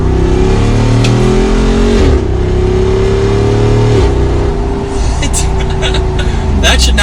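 Jeep Wrangler accelerating hard, with a loud, close engine roar climbing through gear shifts and a brief dip mid-run, pressing on with little pause.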